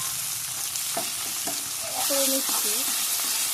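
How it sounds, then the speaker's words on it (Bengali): Onions frying in hot oil in a pan for a river crab curry, a steady sizzle with stirring scrapes and a brief spoken phrase. "পেঁয়াজটা দিয়ে একটু লাল লাল করে ভেজে নেব"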